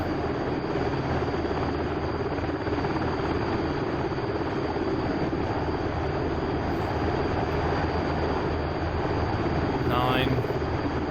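An HH-60 Pave Hawk helicopter's rotor and engine in the DCS flight game during a water search-and-rescue sortie. A loud, steady, unbroken droning whir fills the clip, with a brief voice near the end.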